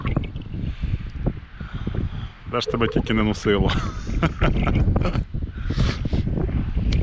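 Strong wind in New Brunswick, Canada buffets the microphone with rumbling gusts throughout, while someone talks and laughs over it.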